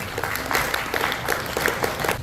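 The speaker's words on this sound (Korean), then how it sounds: "우리 박수로 환영해 주십시오." Welcoming applause from a seated audience at a Korean Christian business association scholarship ceremony, a steady wash of many hands clapping for an incoming speaker, moderately loud and continuous throughout.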